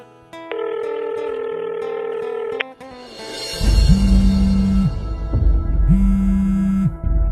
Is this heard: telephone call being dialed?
yes